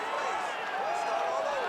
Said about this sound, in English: huge pop from the crowd as the fighters get back up to their feet